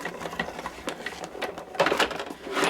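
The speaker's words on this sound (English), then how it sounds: "I'm going to roll it through the machine once" A Big Shot die-cutting machine cranks cutting pads through its rollers, giving a quiet, continuous ratcheting whir with small rhythmic clicks that swell slightly near the end.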